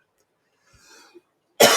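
After near silence and a faint breath, one sharp, loud cough bursts out close at the very end.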